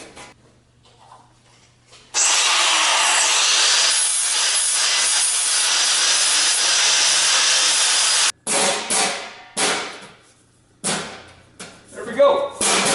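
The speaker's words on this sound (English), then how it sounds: "now I'm going to take my flap disc and take off a few of those burrs" A flap disc on a grinder grinds burrs off metal parts of a Delta Rockwell Unisaw under restoration, one loud steady burst of about six seconds followed by several shorter passes with brief stops between them.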